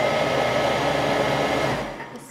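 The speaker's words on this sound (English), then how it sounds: "First, we'll just whiz it up, whiz it together." A Thermomix whirs at speed 7, blending a vegan vanilla custard mixture in a steady high-speed drone before spinning down and stopping near the end.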